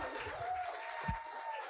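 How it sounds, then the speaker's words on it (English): Audience applause at a live panel discussion on specialty eyecare, a steady wash of clapping from a seated crowd with a faint held tone running underneath. "one big round of applause, if you don't mind,"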